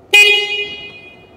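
Energica Ego+ electric motorcycle horn gives a single short, bright toot that rings loud and close, then fades out over about a second with nothing else around it.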